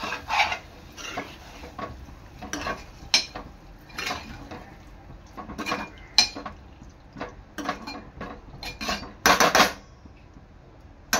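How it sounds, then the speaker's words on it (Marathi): A utensil scrapes and clatters in a pot as wet Bombay duck is stirred into masala, giving irregular metallic knocks and scrapes with a sharper cluster near the end. "तर हे बोंबील टाकायचे आहेत। चांगलं मिक्स करून घ्यायचे आहे।"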